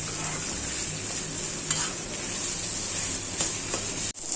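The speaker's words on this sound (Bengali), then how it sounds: "তারপর এটা ভালো করে এখন নাড়াচাড়া দেব। কচুটা একদম ভাজা ভাজা করবো" Taro pieces frying in a pan, a steady close sizzle with soft stirring scrapes throughout and a sharp clack near the end, no talking.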